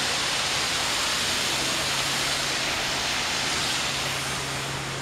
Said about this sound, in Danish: Så har vi et vandfald derovre, men det er rigtig flot.